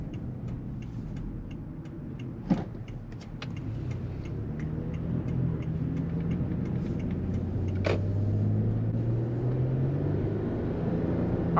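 A 2012 Lexus RX 350 with a 3.5-liter engine and 150K miles, driven on the road with a steady, continuous engine and road rumble that swells slightly as it accelerates, plus a couple of brief knocks.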